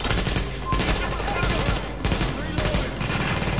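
An automated turret fires continuously in The Division video game, a dense, loud rattle of rapid shots mixed with other battle noise, with only short dips in intensity.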